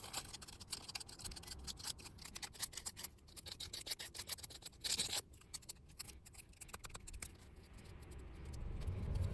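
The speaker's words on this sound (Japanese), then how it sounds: "紙やすりで研磨しました。" Sandpaper rubbing a corroded metal seat belt retractor part from a Mercedes 190E (W201), a steady, quiet rasp of close scraping strokes that runs on without pause, and no voices.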